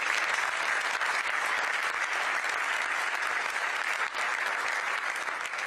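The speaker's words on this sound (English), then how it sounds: "Please give all of our officers a round of applause." Sustained applause fills a large Republican National Committee meeting hall, broad and even clapping from many people continuing without a break, heard from a moderate distance.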